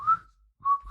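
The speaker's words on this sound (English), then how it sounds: "Start whistling." A person whistles two short, steady tones, the first brief and the second longer, close and clear with a pause between them.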